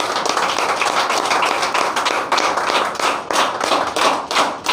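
Audience applause at a network marketing leaders' training session, a dense, steady wash of many hands clapping for almost five seconds with no voices over it.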